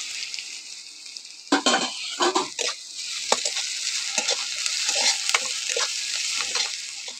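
An okra mixture with chopped ginger fries in a pan, a bright steady sizzle under a few clustered spatula stirs and scrapes early on, then a softer continuous frying hiss.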